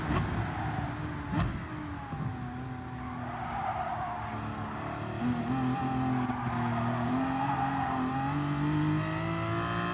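An Aston Martin DP100 VGT race car in Gran Turismo Sport drones steadily as tires squeal and skid while losing rear grip, the pitch sliding up and down through a corner; loud and continuous, no voices.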